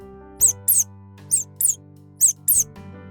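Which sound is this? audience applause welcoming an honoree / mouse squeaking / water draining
mouse squeaking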